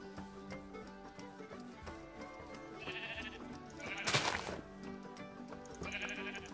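Sheep in a video game bleat a few times over quiet background music, one louder nearby bleat near the middle and fainter calls around it.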